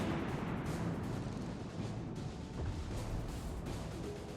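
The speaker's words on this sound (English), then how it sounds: "blind firing over here at this New Orleans." Heavy naval gunfire from the USS Pensacola cruiser in a naval combat video game, a dense continuous roar of booming shots and rumbling blasts with no voices over it.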